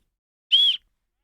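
A single short, bright whistle blast, clean and steady, lasting about a quarter second and standing alone in silence.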